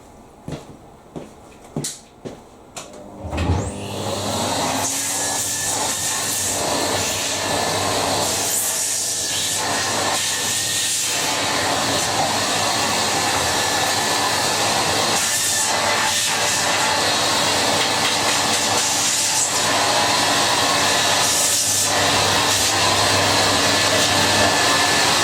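A Numatic Hetty vacuum cleaner is switched on after a few handling knocks, then runs with a steady loud whirring motor drone at close range to the end.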